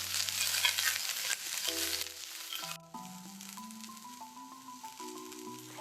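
Onions frying and browning in a pan for jackfruit tinga tacos, with a bright sizzle through the first seconds that gives way to sustained tonal background music.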